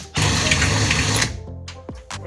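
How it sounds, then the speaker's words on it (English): A cheap £5 electric drill runs steadily and loudly for about a second while boring holes to fit a sunroof blank in a car roof, then winds down, followed by brief faint scraping. "So we've drilled all the holes on the sunroof"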